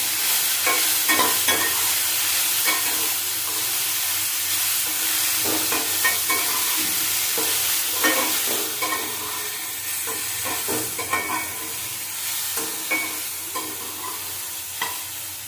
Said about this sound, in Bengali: সবজির মধ্যে লবণ দেবো হলুদ দেবো দিয়ে নড়াচড়া করে নিচ্ছি